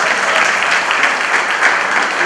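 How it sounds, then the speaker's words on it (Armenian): An audience applauds at an award ceremony, a dense, even clatter of many hands clapping loudly and steadily for the whole brief stretch, with no voices on top. "եկեք նորից ծափահարենք"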